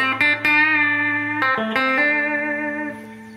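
Electric guitar lead from a jam in C, sustained notes shimmering with heavy vibrato and a wash of reverb, a few picked attacks then long ringing tones that fade.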